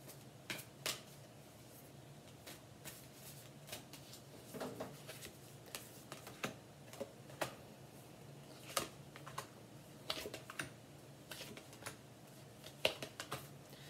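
A deck of Moonology oracle cards is shuffled by hand, a quiet, steady run of soft riffling flicks and taps heard up close for several seconds with no talking.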